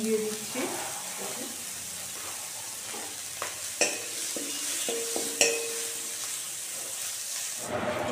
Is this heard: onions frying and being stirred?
yes